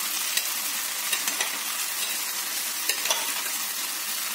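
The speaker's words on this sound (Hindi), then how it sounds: "अब जबकि ये लगभग लगभग तैयार हो चुका है तो इसमें हम ध्यान से साबुदाने को मिक्स कर देंगे।" Sago pearls and vegetables fry and crackle softly in a pan while being stirred, giving a faint, steady sizzle broken by light scraping taps, with no voices.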